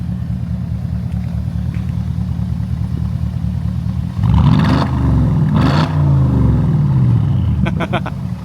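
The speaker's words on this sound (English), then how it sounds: "One more rev, Jake." A Porsche 955 Cayenne Turbo V8 with a muffler-delete exhaust idles steadily with a loud, lumpy burble, then is revved hard in surges midway that rise and fall before settling back toward idle, close and loud.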